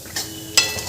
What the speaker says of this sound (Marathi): भाजी छान अशी हलवून घ्यायची आहे एकदा.